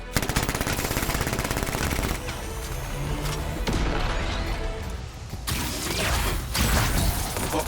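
Turrets firing in Anthem, with dense rapid machine-gun bursts and heavy mechanical clatter, loud and close, pausing briefly between volleys before resuming with sharp repeated shots.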